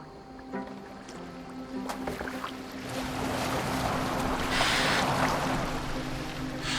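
Rowboat moving across open water in Assassin's Creed Valhalla, a steady wash of water and wind that swells midway, with faint tonal background music underneath.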